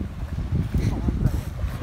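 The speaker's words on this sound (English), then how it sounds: "It's super windy out here" Strong wind gusts buffet the microphone outdoors on a crappie fishing trip, a low rumbling roar under a person talking throughout.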